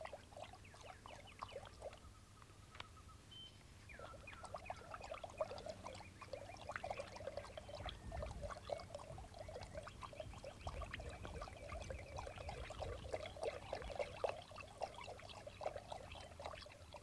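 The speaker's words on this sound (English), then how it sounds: "his partner pours the soap into the pail of water" Soap is poured into a pail of water, producing a soft, quiet trickling and bubbling that runs on for several seconds with small splashes.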